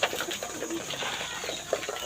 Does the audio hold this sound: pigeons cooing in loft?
yes